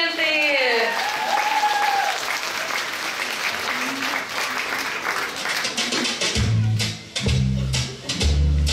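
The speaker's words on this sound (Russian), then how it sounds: "Аплодисменты!" Audience at a summer camp open-day concert applauds loudly and steadily, with cheering voices and whistling over the clapping early on; near the end a low musical intro starts under the fading applause.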